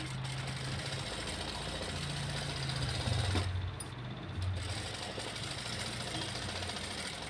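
Sewing machine running steadily while stitching an embroidered blouse, a continuous close mechanical whir with a brief pause and shift in pitch midway.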